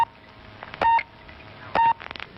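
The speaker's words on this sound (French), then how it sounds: "Il suffit de composer un numéro de téléphone" A telephone number dialed on a keypad, two clear sustained touch-tone beeps separated by quieter clicks, with a few short tapping sounds at the end.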